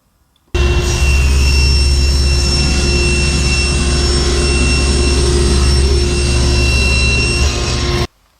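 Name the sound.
table saw cutting a 6-inch wooden strip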